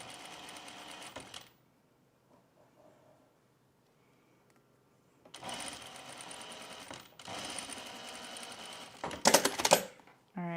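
Bursts of a sewing machine stitching fabric come close and loud, a short run first, then a quiet gap, then two longer runs and a final quick burst with clicks.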